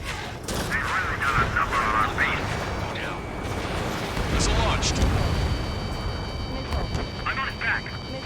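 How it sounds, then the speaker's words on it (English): Missile launches and explosions rumble across a base under attack in a jet combat game, a dense ongoing roar with heavy low booms and bursts, while radio voices talk over the din. "Missile launched."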